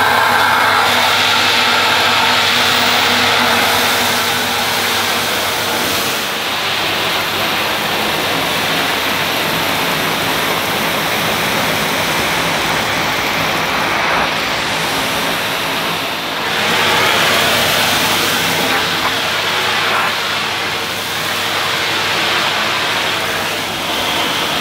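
A Numatic Henry vacuum cleaner runs steadily while sucking up spilled rolled oats, a loud continuous whooshing motor drone with slight shifts in airflow throughout and no talking.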